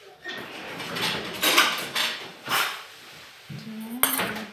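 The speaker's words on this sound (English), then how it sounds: "I need to mix properly" Apple cake mixture stirred in a bowl, with a few distinct scraping and clinking strokes of a utensil against the bowl, close and fairly loud, ending in a brief higher scrape and clink, no talking.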